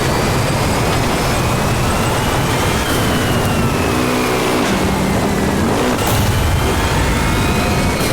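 Off-road racing engines from the 2006 game MotorStorm roar continuously and loudly, the pitch sliding up and down as vehicles rev and shift, all beneath a dense wash of gritty noise, with no one speaking.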